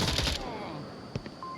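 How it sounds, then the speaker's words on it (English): In the VR shooter Onward, a short loud burst of gunfire opens the moment, followed by a couple of fainter isolated shots and game sounds. "Gunshots from somebody."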